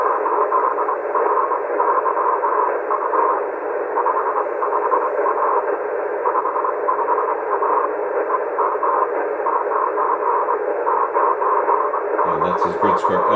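A raspy, buzzing 2-meter amateur radio signal distorted by strong aurora, a steady hoarse tone filling the band continuously and fairly loud, with a brief burst of broadband crackle near the end.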